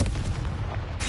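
A Confringo spell blast in Hogwarts Legacy, a dense booming burst of rumbling explosion noise, loud and close, ending in a sharp fresh crack.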